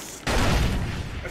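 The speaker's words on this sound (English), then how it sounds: "I just threw a grenade over there." A grenade blast in the video game Far Cry, a sudden loud boom that cuts in sharply and rumbles on with a dense, crackling tail for about a second.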